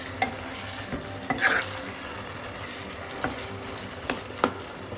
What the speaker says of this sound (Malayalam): വീണ്ടും ഒന്ന് ഇളക്കി